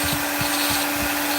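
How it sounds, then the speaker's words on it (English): Fine Kutzall burr on a rotary carver shaping the side of a carved wooden nose: a steady high motor whine with rhythmic grinding rasps as the burr is worked back and forth, close and fairly loud. "So on the side of the nose here, I'm going to use this fine burr."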